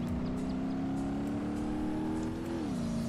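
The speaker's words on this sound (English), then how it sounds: "so the engine sounds need to be updated" A simulated Nissan S13 200BX drift build in BeamNG.drive revs hard and steadily, its engine note climbing slowly then dipping briefly as it shifts, loud and continuous with no talk.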